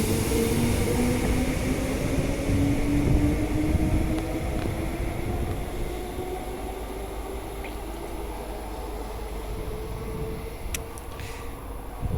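A train pulls away from Perth Stadium Station with a loud, steady rumble and a rising whine that gradually eases, brief clicks and clanks toward the end.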